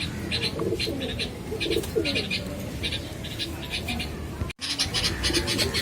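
A young adult female Sylheti Kamagar pigeon coos in repeated low, throaty bursts, close by, with faint chirps of other birds and a steady background murmur.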